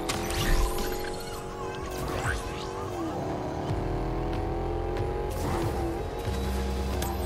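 A car driven in the video game Fortnite, its steady engine drone holding a sustained pitch with some tire noise and bumps, continuous throughout and fairly loud.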